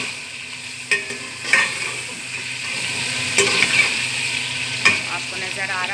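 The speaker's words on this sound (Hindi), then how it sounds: "ये हम टमाटर इसमें ऐड कर लेंगे कटे हुए। थोड़ा सा हम इसे मिक्स कर लेंगे।" Chopped tomatoes are stirred into chicken pulao frying in a pan, a steady close sizzle broken by several scraping strokes and light knocks of the spoon against the pan.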